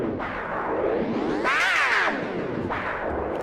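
A swirling, sweeping distorted guitar sound from an air guitar player preset in the PowerChord plugin, with rising and falling whooshing pitch glides, loud and continuous for a few seconds.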